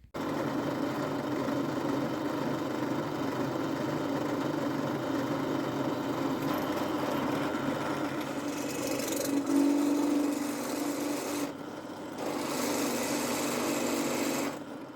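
A pillar drill drilling a small, slow pilot hole whirs steadily at a constant pitch, a continuous mechanical hum with a brief dip in the noise near the end.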